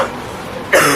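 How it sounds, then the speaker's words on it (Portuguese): A single sharp cough bursts out near the end after a brief quiet stretch, close and loud, as in a cough syrup advertisement. "A tosse do inverno pegou você?"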